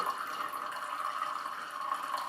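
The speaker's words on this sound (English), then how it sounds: "turn on the hot water side and get essentially the same, pretty much the same drip" Water running from the hot side of a household faucet, a steady, soft trickling hiss with no pauses.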